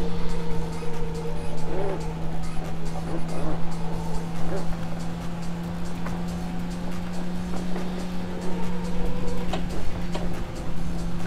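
A Porsche engine revs hard at full throttle in the racing game Need for Speed Porsche, a steady high drone held near its top speed of around 230, with someone talking over it throughout.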